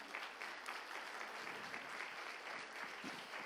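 A church congregation claps together during a Spanish-language sermon, producing steady, dense applause that sounds somewhat distant and soft and fills the short moment without talk.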